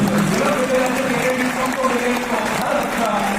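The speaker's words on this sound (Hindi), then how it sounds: "पापा मम्मी को एक बार ताली बजा रहे हैं।" Seminar audience clapping for a student's parents, a steady dense patter of applause lasting throughout, with voices murmuring and talking over it.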